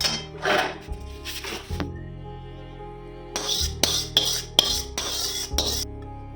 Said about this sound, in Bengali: খুন্তি দিয়ে ভালো করে চালটাকে ভালো করে মাখিয়ে নিচ্ছি